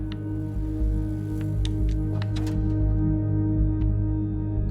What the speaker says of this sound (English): That's the sound of those fans up there.